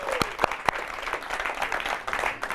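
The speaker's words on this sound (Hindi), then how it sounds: "तो ये ऑडियंस आपके लिए बहुत ताली बजा रही है" An audience applauds on a Hindi television show, with a few sharp claps up front and then light, uneven clapping behind a murmuring room.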